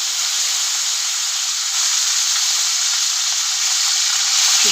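Beans and potatoes fry with cumin in a kadai, giving a steady, loud, bright sizzle that holds without pause from start to finish.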